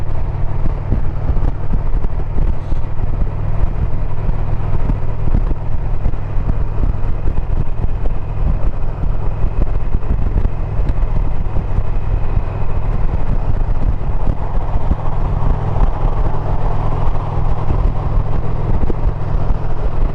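A motorcycle with aftermarket cams and exhaust rumbles with a deep, throaty exhaust note, steady and loud throughout, mixed with wind rush as it rides along.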